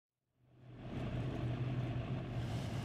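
Truck engine in the SnowRunner off-road driving game starts up and settles into a steady low rumbling drone, fairly quiet and alone without talk.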